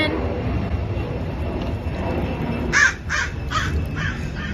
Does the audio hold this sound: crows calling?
yes